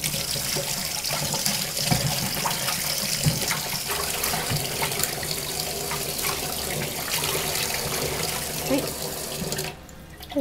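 Silk gauze stole rinsed in hot water to loosen its starch before dyeing, a steady running splash of water with small drips, close and continuous, settling near the end.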